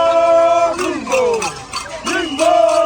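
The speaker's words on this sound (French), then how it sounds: "les chants d'encouragement montent, les cris résonnent et la foule ne cesse de pousser ses champions" Crowd at an Evala wrestling arena in Tchitchao, Togo, shouting and chanting in encouragement, wavering voices rising and falling in overlapping calls, loud and close throughout.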